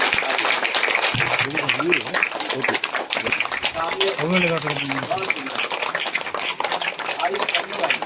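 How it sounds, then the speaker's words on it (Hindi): Sustained applause from a large audience at a religious gathering addressed by a spiritual leader, a steady dense roar of clapping throughout, with a voice speaking over it. "आइए, तालियों में कंजूसी ना रखिए, आपकी तालियों की गड़गड़ाहट बनी रहनी चाहिए"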